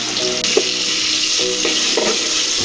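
Shrimp hit hot oil with onions in a pan for a Bengali radish curry, giving a loud, constant close sizzle with a few soft stirring clacks and no talk.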